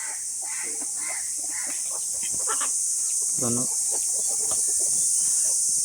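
Free-range village chickens and their chicks at a country poultry market, with scattered soft clucks and peeps. A louder, clear call rises briefly near the middle over steady insect-like hiss.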